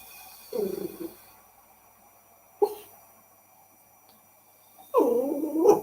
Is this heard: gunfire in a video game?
no